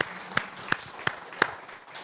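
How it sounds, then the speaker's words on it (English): Sparse clapping from a small audience at an investor pitch event, four or five distinct, evenly spaced claps over quiet room tone. "Applause."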